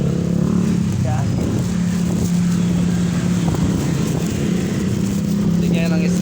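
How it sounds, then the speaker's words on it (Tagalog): Strong wind buffets the microphone in a loud, continuous roar, with a steady low drone running underneath and muffled voices mixed in. "Sobrang lakas ang hangin."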